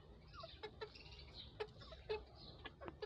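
A bantam hen clucks in short, soft bursts on a small home farm, several spaced clucks over faint background noise, fairly quiet and without talk.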